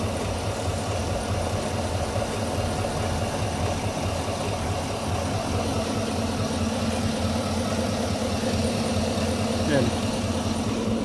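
A Chevy Silverado engine idles roughly with a steady low mechanical drone and faint shaking rattle, continuous and close, while someone talks over it.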